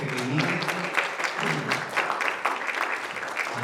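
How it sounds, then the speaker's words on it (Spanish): A church congregation claps for the little children, a steady moderately loud round of applause with a few individual claps standing out above the crowd. "démosles un aplauso a los pequeñines"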